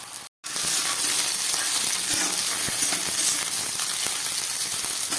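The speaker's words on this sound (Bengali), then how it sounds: "আলু কপিটা একটু ভেজে নিই।" Potato and cauliflower pieces frying in oil in a pan, a steady close sizzle with scattered pops and faint stirring, after a very short gap at the start.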